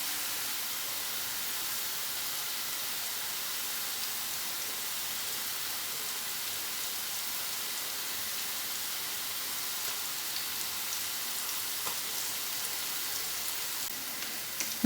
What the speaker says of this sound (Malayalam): നമുക്കിത് തിരിച്ചും മറിച്ചും ഇട്ട് വേഗം നമ്മൾ ഫ്രൈ ചെയ്തെടുക്കാം.